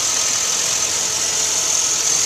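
A 2005 Chevrolet Silverado 1500 crew cab with a 5.2-liter Vortec V8 idling, a steady, even engine hum with no talk over it.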